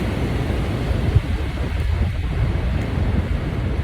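Strong wind on a windy day in London buffeting the microphone, a constant loud roaring rush with no clear pauses.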